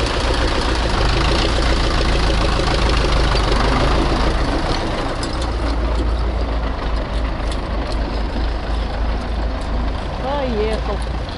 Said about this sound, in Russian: Хороший трактор.